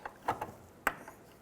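A ratchet wrench tightening the trailing arm bolt on a 2006-2013 Chevrolet Impala, a few quick close clicks followed by one sharper ratcheting snap, quiet and brief with no talk.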